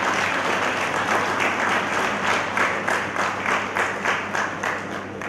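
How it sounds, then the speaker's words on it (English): At a pharmacy college graduation ceremony in Tumkur, an audience applauds the teachers, a sustained crowd clapping with some rhythmic, near-synchronized pulses emerging, steady and fairly loud, slowly easing at the close, without voices. "One round of applause to all the teachers who have taught you"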